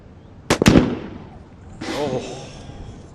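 A single sharp rifle shot from a sniper at a SWAT competition range, a loud crack with a short echoing tail, followed by a voice talking.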